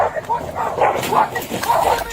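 A police K9 dog barks and yips excitedly in a short, close burst, mixed with human voices during an apprehension.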